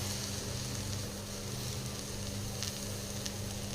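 Brinjal chukka, a spicy Tamil eggplant dish, sautéing in a pan, giving a steady, close frying sizzle with a low hum underneath and no talk over it.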